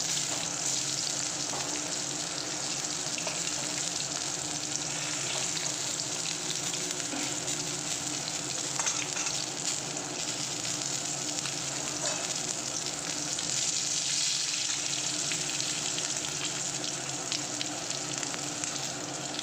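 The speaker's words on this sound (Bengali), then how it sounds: "বাকি মাছগুলো আমি এখন ভেজে নেবো" Pieces of boal fish frying in hot oil make a steady, dense sizzle that runs unbroken and even in level throughout, heard up close with no talking over it.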